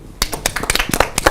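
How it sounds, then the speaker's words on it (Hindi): Several pairs of hands clap in a quick, uneven burst that starts sharply and continues briefly. The clapping is close and loud, celebrating Indian athletes winning 61 medals. "तालियां"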